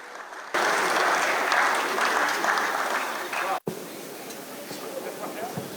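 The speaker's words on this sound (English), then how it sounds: "I would appreciate you with a round of applause" A lecture-series audience gives a round of applause, a dense sustained clapping that swells, thins, breaks off abruptly, then trails into lighter scattered claps.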